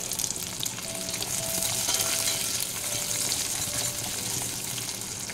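Garlic, chopped ginger and onion fry in a small amount of oil for chilli chicken, producing a strong, continuous sizzle with stirring scrapes running through it and no voices.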